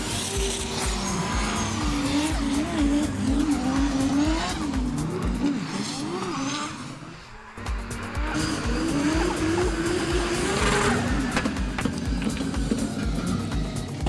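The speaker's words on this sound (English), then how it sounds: "those straight cut gear sounds are incredible" Pro-class drift car with a straight-cut sequential gearbox battling at Teesside Autodrome, loud engine revving with gear whine, shifting pitch and tire squeal, dipping briefly mid-way before surging again, no speech.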